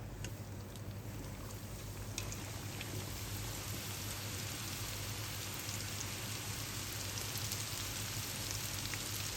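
Wonton dumplings deep-frying in oil over low heat, giving a steady, dense crackling sizzle like light rain that runs unbroken and close throughout, with no voices.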